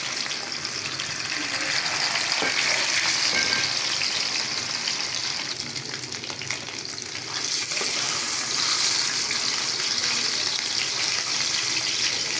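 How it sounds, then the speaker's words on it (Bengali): Foli fish kofta stuffing fries in a pan with a steady, dense sizzle and occasional stirring scrapes, close and continuous throughout, with no talking. "এখন আমি এটাকে ভাজবো, মাছের পুরটিকে এখন ভাজবো"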